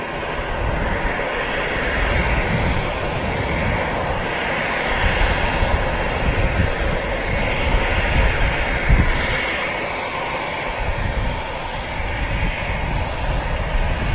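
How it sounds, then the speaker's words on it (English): A 21-year-old Finnair airliner bound for Helsinki taxis out at Manchester Airport, its engines giving a steady, moderately distant whine and roar that swells and eases slightly over time. "aircraft we can hear taxiing out is the Finnair service to Helsinki"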